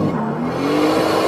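A manual-transmission car's engine revving hard at around 5000 rpm for an accelerator turn, a brief loud rising engine roar heard up close.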